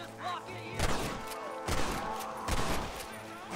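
Gunshots in the Red Dead Redemption video game, three heavy broadband bursts roughly every 0.8 seconds over a continuous game soundtrack, with faint ambient noise between shots.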